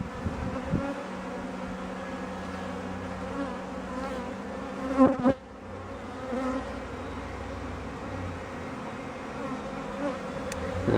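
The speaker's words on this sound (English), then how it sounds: "A lot of busy bees in there." A beehive full of busy honeybees gives off a dense, steady buzzing that stays close and even throughout, with a brief louder flurry midway and no voices.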